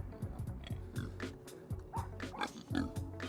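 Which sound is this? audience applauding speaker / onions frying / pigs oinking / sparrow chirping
pigs oinking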